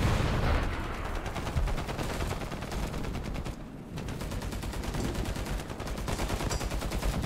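Heavy gunfire in War Thunder's exoskeleton-versus-tanks battle rattles in dense, rapid bursts close up, nearly unbroken apart from a brief lull midway.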